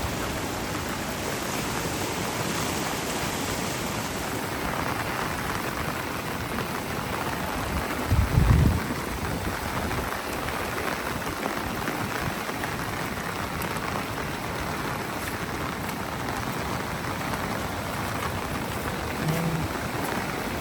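A flooded Konkan river rushes past in a steady, loud wash of water roar that carries on without a break, with a brief low thump partway through.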